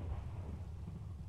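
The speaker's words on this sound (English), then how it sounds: "Twas the lightning before the thunder." Thunder rumbles low and steady in a jungle survival game, a deep continuous roll with a faint rain-like hiss and no voices.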